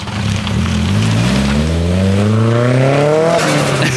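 A turbocharged Nissan SR20DE+T engine revving on a dyno, loud and close, with steadily climbing engine tones and a continuous roar that builds through the pull.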